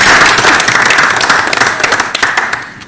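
Applause from an audience at a regional school district committee meeting, a dense, steady patter of many hands clapping that runs for about three seconds and tapers off slightly at the end, with no talk over it.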